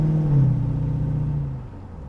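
A Hemi-swapped 1971 Dodge Challenger pulls onto the freeway, its engine giving a deep, loud rumble that swells briefly then settles and fades slightly over two seconds, heard from inside with no talking.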